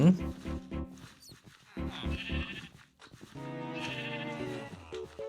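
In Minecraft, a sheep-slime fusion mob gives repeated, wavering bleats in close, loud bursts, with a longer drawn-out bleat near the end and a voice talking alongside.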